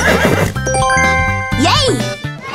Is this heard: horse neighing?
yes